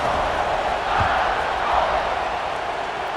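A stadium crowd in the College Football 26 video game cheers before a kickoff, a steady dense roar that holds at an even level throughout.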